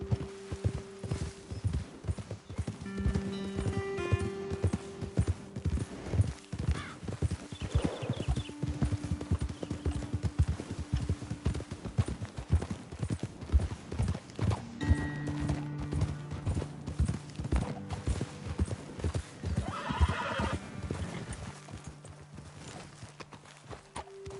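Horse hooves clip-clop in a steady rapid rhythm close by in Red Dead Redemption 2, with an occasional horse snort, and soft tonal music playing quietly underneath.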